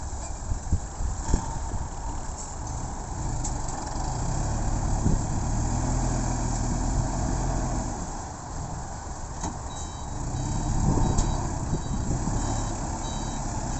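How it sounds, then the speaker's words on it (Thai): A dump truck hauling soil rumbles close by with a heavy engine drone, reversing to tip its load while faint, evenly spaced reversing beeps sound through the engine noise. "ถอยไปเทข้างหลังนะครับ"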